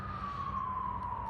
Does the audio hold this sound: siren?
yes